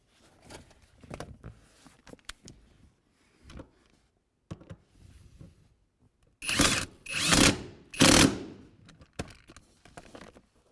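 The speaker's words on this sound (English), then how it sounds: "we can screw in the bolt on the inside" Bolt being screwed into the fuel pump cover of a 2007-2013 Acura MDX, a few brief ratcheting and tapping bursts, loudest in three close bursts near the end, with quiet gaps between.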